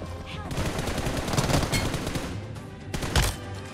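Dense automatic gunfire from the BGMI mobile battle royale game, a steady burst of shots lasting several seconds with a louder crack near the end, loud and close.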